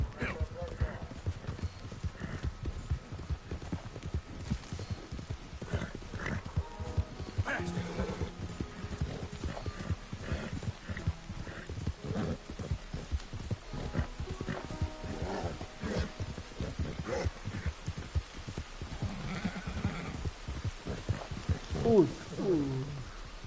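A horse gallops in the video game Red Dead Redemption 2, with steady rapid hoofbeats running throughout and someone talking over them at times.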